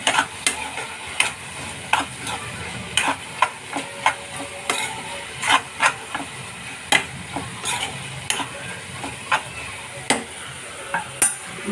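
Curry being stirred in a pan for a Telangana-style dish, a spoon scraping in steady repeated strokes over a light sizzle, close and clear with no talking.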